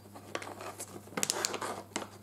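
A plastic packet of frozen cookie dough product is pulled and crinkled as it resists opening, giving scattered sharp rustles and small tearing bursts, faint and close.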